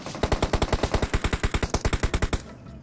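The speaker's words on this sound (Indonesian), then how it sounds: "ada yang nembakin gua dari arah lain" Rapid automatic gunfire in the mobile battle royale game PUBG Mobile: a steady burst of about twenty loud, evenly spaced shots over two seconds, then stopping abruptly.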